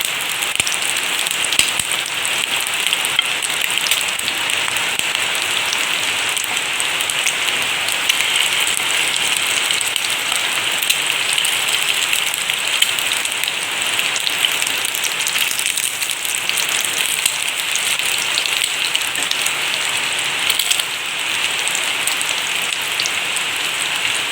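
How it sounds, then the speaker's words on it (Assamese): Heavy rain pours steadily and loudly throughout, a dense continuous hiss of drops drumming on a surface with no voices. "ইমান বৰষুণ দিছে"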